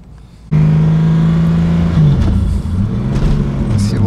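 A car with a suspected clutch problem and a loss of boost. Its engine starts loudly after a quiet moment and then drones steadily as it drives, with the pitch dipping and shifting as the speed changes.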